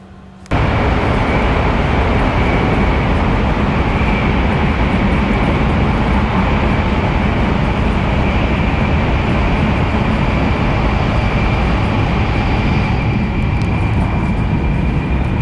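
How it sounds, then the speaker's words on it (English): A JR Kyushu bullet train with wooden interior fittings runs at speed, a loud continuous broadband roar and rush that starts abruptly and holds steady, heard from on board with no talking. "JR Kyushu keeping it classy with the wooden bullet train."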